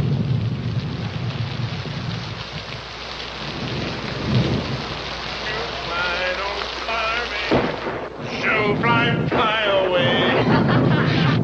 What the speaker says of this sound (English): Listen to that old thunder.